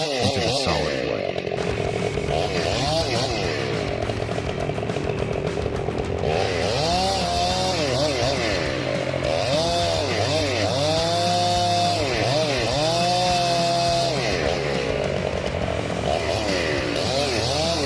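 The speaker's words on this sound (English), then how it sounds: "The fast-spinning chain cuts through the bark first, then gradually moves deeper into the solid wood." A chainsaw cuts through a tree trunk, its engine droning steadily and rising and falling in pitch as the chain bites into bark and dense wood, loud and close throughout.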